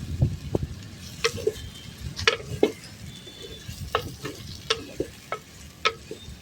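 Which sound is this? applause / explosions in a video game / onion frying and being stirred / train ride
onion frying and being stirred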